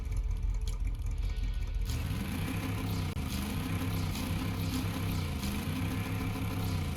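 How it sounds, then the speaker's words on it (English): Ripper car engine from Fortnite, a muscle-car style motor that starts up after a brief lull and then runs with a deep, steady rumbling drone, close and continuous with no speech. "Let me play the engine sound real quick before we get into a game."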